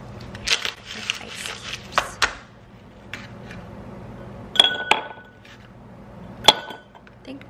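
An unopened bottle of organic cold brew coffee is shaken by hand. The shaking comes as a burst of irregular sloshing knocks, and a few sharp glassy clinks ring out a little later.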